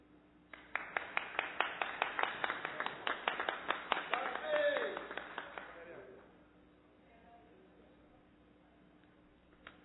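Council members clap for a councillor's birthday in a chamber meeting, producing a string of about twenty sharp, evenly spaced claps that swell slightly, then fade out near six seconds, leaving quiet room tone.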